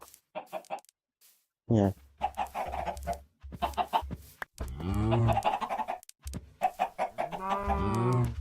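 Chickens in Minecraft cluck in short repeated bursts near a player farm, while several people chat casually over them.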